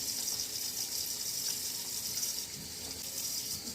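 Tap water runs steadily into a sink while tomatillos are rinsed for pozole verde, a continuous hissing splash heard close up with no other sounds.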